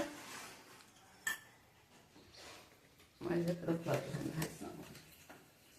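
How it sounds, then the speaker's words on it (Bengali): Plates and cutlery clinking during a home meal of fish curry, beet chutney, cauliflower roast, sesame fritters, olive chutney, dal and rice, with faint clinks early and a denser burst of close clattering later while people talk. "তো এখন আমাদের খাওয়া হয়ে যাচ্ছে।"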